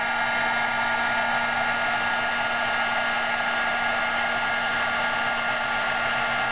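A heat gun blows steadily while melting wax for cotton-round fire starters, an even, unbroken whirring hiss of fan and air with no talking.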